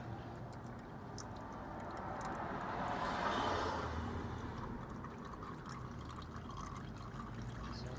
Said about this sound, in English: just so the oil start draining like so